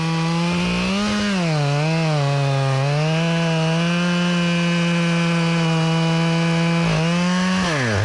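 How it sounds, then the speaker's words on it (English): A chainsaw bores into a tree trunk during felling, a loud, sustained buzzing drone that wavers in pitch as the bar works into the wood, with brief dips near the start and end. "I'll bore on back here looking for the middle of the tree just like the other side"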